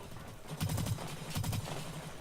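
Short rapid bursts of gunfire from a weapon in Black Light Retribution, two quick volleys of repeated shots, fairly faint.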